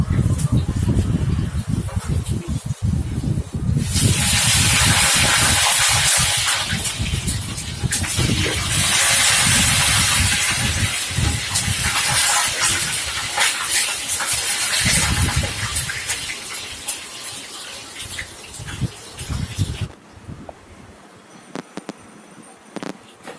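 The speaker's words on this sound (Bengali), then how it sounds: "আমি আজকে তেলে ভেজে দেখাচ্ছি আপনাদের" Frozen vegetable samosas deep-fry in overheated oil, giving a loud, steady bubbling sizzle that runs for about fifteen seconds and then drops away to quiet kitchen sounds.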